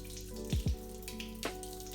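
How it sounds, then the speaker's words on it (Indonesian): Dental impressions of the upper and lower jaw are rinsed under running tap water, a steady hissing stream with a few brief splashes and gurgles, close and alone. "Untuk dibersihkan dengan air yaitu di bawah air mengalir atau di bawah pancuran keran."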